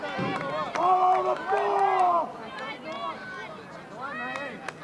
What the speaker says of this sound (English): You might hear those vocal people in the crowd yelling to follow the ball